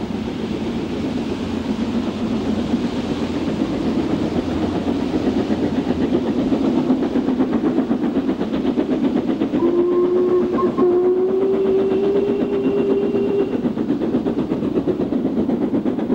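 A steam train runs on an LMS railway line. Its steady rumbling and clattering roar goes on throughout, and a brief whistle sounds near the end. No one speaks.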